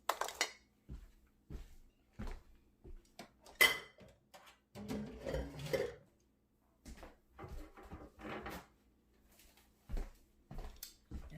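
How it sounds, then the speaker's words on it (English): Dirty dishes and cutlery clatter into a kitchen sink after making buffalo chicken dip, with a string of separate clinks and knocks and brief pauses between them. "Dirty dishes go to the sink."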